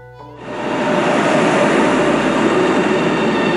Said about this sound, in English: First class on the bullet train.